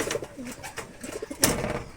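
Pigeons kept in a cage coo in soft, rolling bursts close by, with a brief sharp rattle of the cage partway through.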